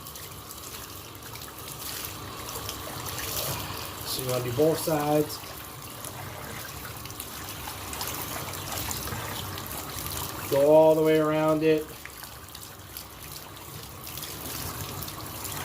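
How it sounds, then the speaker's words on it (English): Hot water from a tap streams steadily over a dirty K&N air filter during cleaning, a continuous rinsing hiss beneath a voice, with a couple of louder splashing bursts. "So I'm going to get a little bit of a hot water. I'm going to rinse it right here."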